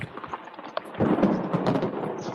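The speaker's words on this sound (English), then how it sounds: "Ooh, I hear thunder." Thunder rumbles as a low, rolling swell that builds and then lingers, heard outdoors with a rain-like patter in the background.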